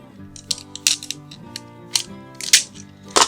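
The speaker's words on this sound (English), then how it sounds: "I'm just using good old packing tape. Okay, so now it's taped on. And now I'll tape this on to here." Packing tape being pulled and pressed on while building a student desk workspace at home: a few sharp ripping and sticking bursts in uneven rhythm, close and fairly loud, with no talking.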